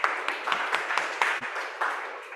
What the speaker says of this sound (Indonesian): Tepuk tangan untuk Pak Manto.